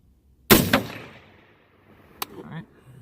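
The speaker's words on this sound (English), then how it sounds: "first is going to be my cold bore, clean bore shot" A single sharp 6.5 Grendel hunting rifle shot rings out loud and close, its report decaying over a second, followed by a fainter distant crack or impact a moment later.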